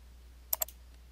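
Two quick, crisp computer mouse clicks in close succession, followed by a fainter third click, set against a quiet low hum.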